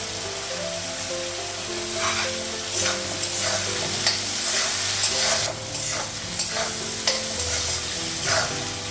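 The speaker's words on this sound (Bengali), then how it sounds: "আলু আর পেঁয়াজটা একসঙ্গে ভেজে নিই।" Potato and onion fry together in a pan, a steady close sizzle broken by repeated scraping stirs of a spatula at an irregular rhythm, with no speech.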